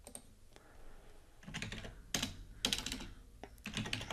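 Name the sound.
typing on computer keyboard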